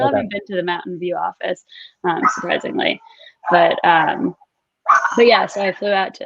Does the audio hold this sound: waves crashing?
no